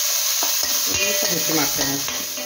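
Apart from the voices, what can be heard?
washed raisins frying in ghee in a kadai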